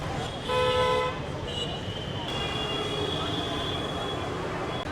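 A train horn sounds at a railway station on the way to Balasore, a loud harmonic toot near the start, then a second fainter blast over steady rumbling station noise with a few voices.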